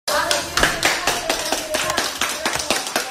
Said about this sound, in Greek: Πάμε να δούμε τα χειροκροτήματα των γιατρών και των νοσηλευτών στο ρεπορτάζ που ακολουθεί.